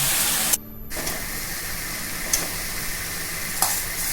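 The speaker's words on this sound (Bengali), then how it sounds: "এইবার আমি শাকটা ভাজতে থাকবো" Jute leaves fry over a medium gas flame with potato and onion, a close, constant sizzle broken by a few sharp scrapes of stirring and one brief dropout near the start.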